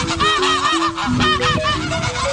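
Several geese honk loudly and repeatedly, overlapping calls close by in a noisy, continuous chorus.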